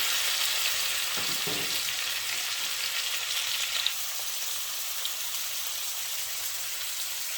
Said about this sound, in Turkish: Şimdi biraz da etini şöyle hafif bir soteleyeceğim arkadaşlar